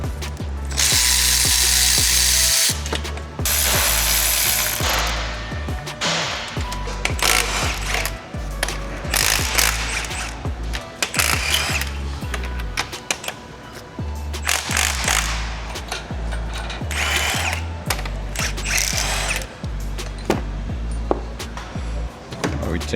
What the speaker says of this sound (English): You got 2 more bolts on the top. Let's get them out.